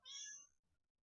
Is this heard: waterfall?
no